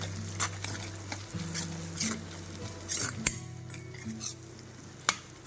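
Finely chopped onion and raw mango sauté in a pan, a soft, steady sizzle close by, broken by intermittent scraping and clinking stirs.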